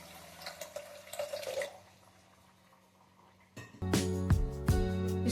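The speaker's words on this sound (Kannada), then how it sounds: "ಇದಕ್ಕೆ ನಾನು ನೀರು ಹಾಕ್ತಾ ಇದ್ದೀನಿ." Water pours into a vessel of washed horse gram after a quiet stretch of faint trickling, splashing loudly and continuously near the microphone for the final seconds.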